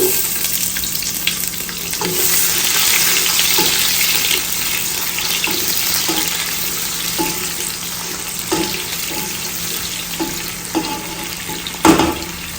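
Onion frying in a pot, a steady close sizzle lasting several seconds, broken by occasional clinks and knocks of utensils and a sharp clatter near the end.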